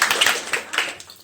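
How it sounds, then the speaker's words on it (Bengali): Applause from a class audience of women's self-help group members, a burst of hand claps fading over about a second with a final clap at the end. "একটা হাততালি আপনাদের জন্য।"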